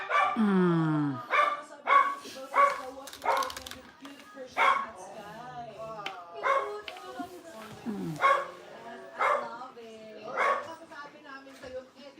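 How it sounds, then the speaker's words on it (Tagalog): A small dog barks and yips repeatedly, around a dozen sharp bursts in a steady rhythm, close and fairly loud, with a brief whine between barks. "Nagkakahol-kahol ang bebe."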